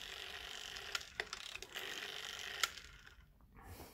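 Rotary dial of a 1962 Heemaff PTT Type 1955 telephone fitted with a later dial, giving soft mechanical ratcheting and whirring with several sharp clicks as it returns, close up and fairly quiet.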